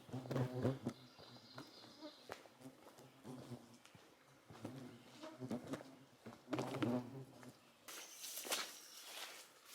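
Buzzing insects, mosquitoes in wet, swampy woods with muddy ground and grass, whine near and far over rustling footsteps through the undergrowth, with no talk.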